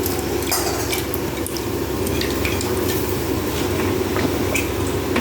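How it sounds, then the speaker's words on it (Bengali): Vegetables being washed in a pot or basin of water before cooking, a steady wet sloshing and stirring with small clinks of the vessel, close and continuous, with no talking. "এবার সব সবজিগুলোকে ভালো করে ধুয়ে তুলে নেব"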